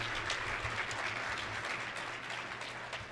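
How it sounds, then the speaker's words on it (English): A ceremony audience applauds honorees at an HHS Senior Executive Service oath of office and awards event, a steady wash of many hands, moderately distant, easing slightly toward the end, with a faint low hum underneath. "join us in applauding, once again, our honorees"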